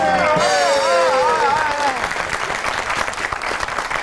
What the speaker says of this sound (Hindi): आपकी बहुत सी तालियों में रिहाम खान।